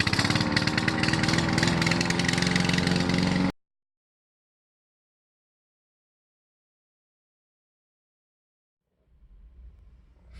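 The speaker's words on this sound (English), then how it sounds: "he lets his mother do the lawn mowing" A petrol lawn mower runs loud and steady for a few seconds while a lawn is mowed, then cuts out into silence before a faint engine hum returns near the end.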